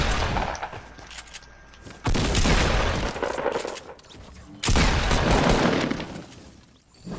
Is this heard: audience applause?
no